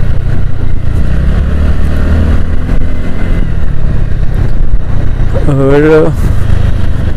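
A TVS Ntorq scooter rides through the Chenani Nashri tunnel near Udhampur, and its engine and road noise form a loud, steady drone that fills the whole stretch. A voice speaks briefly over it near the end.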